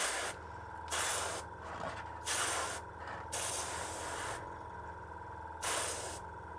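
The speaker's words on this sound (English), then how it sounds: "So this is a new airbrush that I'm using, and for some reason it keeps bubbling at the top." An airbrush spraying paint in repeated short bursts, each a close, sharp hiss lasting about half a second to a second, with quieter gaps between them.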